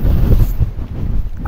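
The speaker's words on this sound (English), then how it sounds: "we'll see if we can get out of this wind somewhere" Strong gusting wind buffets the microphone on an exposed Lake District fell ridge, a loud, continuous low roar that surges and eases, with no voices.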